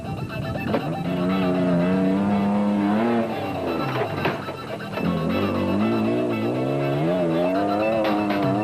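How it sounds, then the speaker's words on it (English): Rally trucks, a Ford Ranger and a Toyota Hilux, race through the Limpopo 400 off-road event in 2008, with loud, sustained engine notes that rise, dip and climb again as they pass close by. "Woolridge and Scholthammer were literally flying along in the Ford Ranger"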